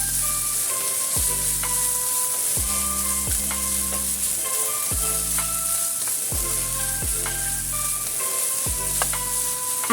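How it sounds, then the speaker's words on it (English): Turmeric chicken stir-frying in a pan, with a loud continuous sizzle and regular scraping strokes of the spatula tossing the pieces in a steady rhythm, close up. "Then we mix everything together and stir fry."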